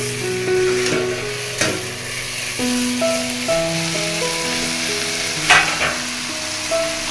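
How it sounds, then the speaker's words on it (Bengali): Leafy greens fry in a pan and are stirred, giving a continuous loud sizzle with scraping strokes and occasional clinks from the utensil on the pan. "এবার একটু ভালো করে নাড়াচাড়া করে দিচ্ছে।"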